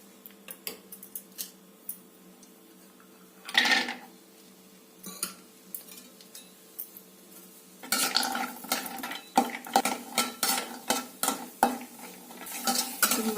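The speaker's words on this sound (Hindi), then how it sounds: "तो अब मैं भून लेती हूँ ड्राई फ्रूट" Almonds dry-roasting in a pan for flaxseed and jaggery laddu, a quiet scrape of a spoon at first, then busy clinking and rattling of nuts stirred against the metal pan, close and irregular.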